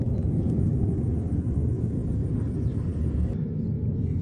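Fighter jets on loud training flights in the sky over Germany give a continuous, heavy low rumble that rolls on steadily throughout at a distance, filling the whole neighbourhood without any clear break.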